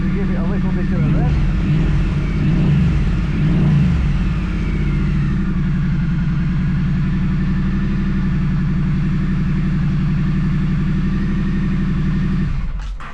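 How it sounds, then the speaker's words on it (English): A Triumph motorcycle fitted with a TEC exhaust blips its engine up, then settles into a loud, steady idle rumble that runs on until a sudden cutoff, with some talking in the background early on. "So let's give it a try and see what it sounds like. Give it a little bit of a rev."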